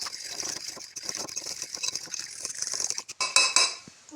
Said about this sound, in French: Et je vais les fouetter avec une fourchette.